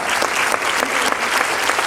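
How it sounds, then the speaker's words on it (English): Audience applause at a leadership meeting speech: a dense, steady burst of clapping from a crowd, lasting throughout. "We're going to clap this really fast."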